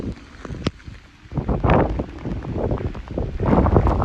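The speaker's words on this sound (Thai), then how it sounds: "ฝนตกหนักลมแรงนะครับ" Heavy rain and strong wind at a railway junction station: wind buffets the microphone in heavy gusts, with a steady wash of rain noise and occasional thumps, no voices.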